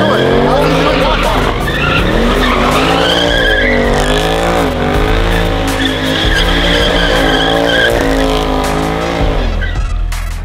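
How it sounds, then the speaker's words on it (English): A widebody 800-horsepower Corvette spins donuts, its engine roaring loud and close while the tires skid and squeal in long, wavering howls that rise and fall with each rotation. "We're scoring the donuts."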